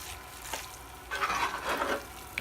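Shrimp go into a hot cooking pan and are stirred, giving soft, quiet sizzling with a few scraping stirs and light splashes.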